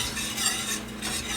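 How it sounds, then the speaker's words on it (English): Flour being whisked into hot fat for a roux over medium heat, a steady scraping whisk against a pot with a faint sizzle underneath, continuous and close, no talking. "we're going to be taking half a cup of flour and we're going to be whisking it in"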